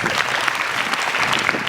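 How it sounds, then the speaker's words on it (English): Dense, steady applause from a school audience at an Independence Day celebration, welcoming the chief guest onto the stage, sustained and loud throughout with no voices over it. "Please welcome him with a huge round of applause."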